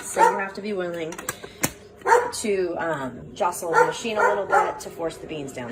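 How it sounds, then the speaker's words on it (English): A dog barks several times indoors during a Sboly conical burr coffee grinder review, the barks mixed in under someone talking close to the microphone. "Sorry about the dog."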